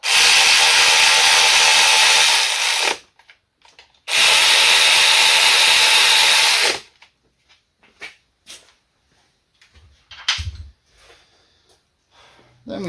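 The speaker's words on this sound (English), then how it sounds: "just to speed things up, I will use my electric, being careful not to over tighten them" An electric ratchet snugging spark plugs on a Honda K24 engine, two loud steady whirring bursts of about three seconds each, followed by quieter clicks and handling noises.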